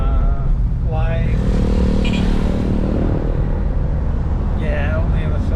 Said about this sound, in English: The outriggers on motorcycles.